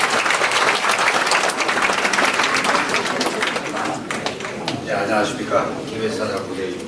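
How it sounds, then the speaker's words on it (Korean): An audience at a year-end gathering of KBS alumni bursts into loud, dense applause that thins and tapers off toward the end, as talking voices emerge beneath the fading claps. "박수 좀 보내주시고"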